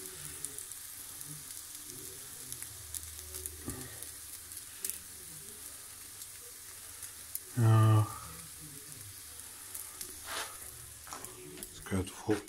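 French toast frying in a pan on the stove, a low, steady sizzle with a few louder clatters and scrapes of a utensil; close but fairly subdued.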